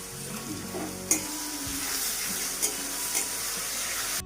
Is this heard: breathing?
no